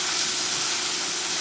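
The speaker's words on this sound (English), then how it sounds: "Let that stir fry around." Edamame stir frying with sea salt in a hot pan: a steady, loud, close sizzle and hiss that holds evenly throughout without pause or talk.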